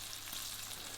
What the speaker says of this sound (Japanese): オーブンに入れずにこのまま全面をきっちり焼きながら仕上げていきます。